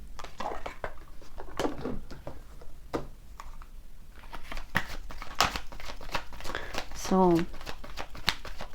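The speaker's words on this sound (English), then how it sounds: "Let me pull some cards from this deck as well." A deck of cards is shuffled and riffled in a few quick bursts, close and clear, while a person talks over much of it.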